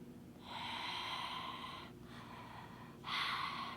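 Ujjayi yoga breathing with a constricted throat gives a raspy, ocean-like hiss: a long inhale, a brief pause, then another strong breath, close and alone with no talk.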